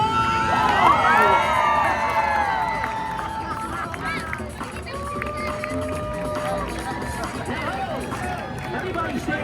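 A large Times Square crowd cheers and shouts loudly, then settles into a steady roar of babble, whoops and scattered calls, with a dense, continuous outdoor din throughout.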